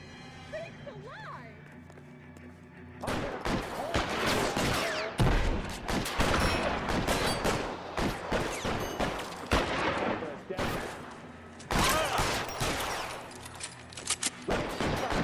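Rapid bursts of gunfire crack through an LA Noire video game shootout, coming as repeated volleys from about three seconds in. The shots are loud, dense and close, with short pauses between clusters.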